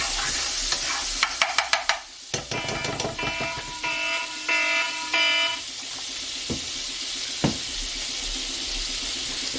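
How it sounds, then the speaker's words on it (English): Garlic sizzling in olive oil and butter, a continuous hiss broken by a burst of sharp clatters and rattles near the start and a couple of later knocks, with no voices. "We're gonna get a little scoop of garlic. Put that right in there with our olive oil and butter."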